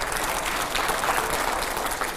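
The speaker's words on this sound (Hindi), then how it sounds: "जोरदार तालियां हो।" A studio audience at a televised talk-show interview breaks into steady, dense applause that fills the whole stretch at an even level, with no voices on top.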